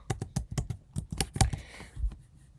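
Someone types on a computer keyboard nearby in a quick burst of crisp key clicks, followed by a few slower, scattered presses.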